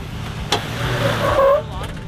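A Jeep engine revs and strains on a snowy off-road obstacle at a winter 4x4 jamboree, a sharp knock early on, then rising engine roar and tire noise, with voices nearby.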